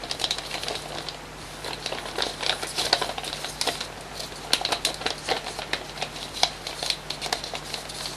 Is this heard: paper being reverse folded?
yes